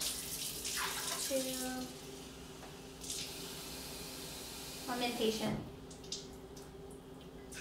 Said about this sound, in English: Alright, so I'm putting 3 cups of water. 1. Turn the water down so it wouldn't overflow.